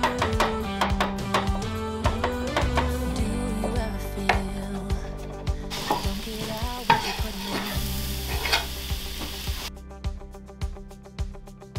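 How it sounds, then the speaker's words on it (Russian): Onion and garlic sautéing in a pan, a steady close sizzle broken by repeated taps and scrapes of a utensil stirring, with no talk. "И далее пассируем лук и чеснок до полупрозрачности."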